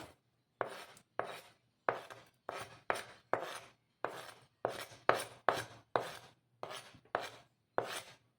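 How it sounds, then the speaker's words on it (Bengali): Knife chopping onion on a board for a Bihari-style roasted tomato chutney: a steady series of about fifteen crisp, close, evenly paced cuts, alone with no talk. "তো সেই জন্য আমি একটু পেঁয়াজ কুচিয়ে দিচ্ছি।"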